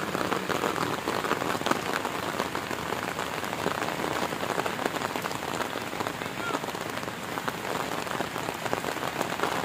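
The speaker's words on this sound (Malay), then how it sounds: "Hujan makin lebat." Heavy rain pours steadily onto a beach at a seaside picnic and camping spot, a dense, continuous hiss and patter that stays loud and even throughout with no voices.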